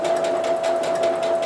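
A domestic sewing machine runs steadily at a moderate pace as fabric feeds through, giving a continuous whirring motor tone with a fast, even needle rhythm, close and loud, with no voices.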